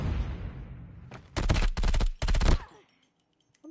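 Video-game gunfire rings out in three rapid, loud bursts of automatic shots, preceded by a fading rumble and followed by silence.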